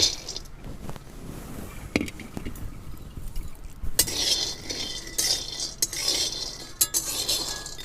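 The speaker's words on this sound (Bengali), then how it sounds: "বাদামটাকে আমি ভালো করে ভেজে নিব" Raw peanuts are tossed and stirred in a hot wok on a stove, with a metal spatula scraping and clinking against the pan in irregular strokes over a soft low frying hiss.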